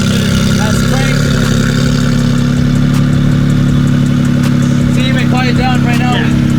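A Ford F-150 EcoBoost pickup engine runs through a newly fitted exhaust, a steady, loud low rumble throughout with people talking over it.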